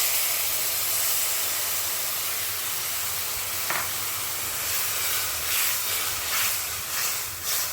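Tamarind water poured into a hot pan with crushed garlic for drumstick rasam, giving a steady loud hiss and sizzle that carries on throughout, swelling and bubbling unevenly toward the end.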